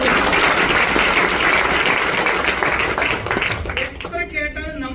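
Loud, dense clapping from an audience at a presentation gathering, continuous for about four seconds before thinning out as a voice begins speaking.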